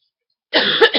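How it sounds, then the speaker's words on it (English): Half a second of silence, then a close, harsh cough burst with a second short cough at the end. "I have a cough."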